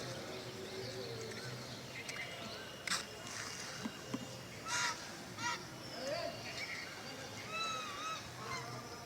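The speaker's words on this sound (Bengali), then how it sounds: "প্রচুর রাজহাঁস আছে দেখুন" Geese honking at a temple pond, a few loud calls in separate bursts over a steady outdoor background, with faint voices nearby.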